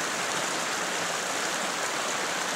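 Rocky Creek east of the Opal North summit in Kananaskis, flowing as a steady, even rush of water heard close by and alone, with no voices.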